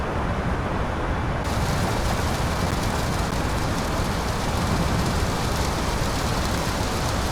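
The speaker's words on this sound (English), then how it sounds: "I think that's the rain, heavy rain." Heavy rain drums steadily on an Aurora A320neo airliner flying through a storm in Microsoft Flight Simulator, a dense, even hiss that persists loudly and evenly throughout with no voices.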